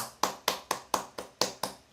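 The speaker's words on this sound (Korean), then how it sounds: "하나님께 영광의 박수." A church congregation applauds in unison with eight steady, evenly spaced claps, crisp and close.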